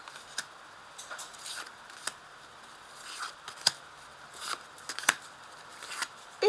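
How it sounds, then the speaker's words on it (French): Tarot cards being laid out one by one on a table, giving soft papery slaps and brief shuffling rustles at an uneven pace, close and quiet, with no talking. "Et je vais placer mes cartes."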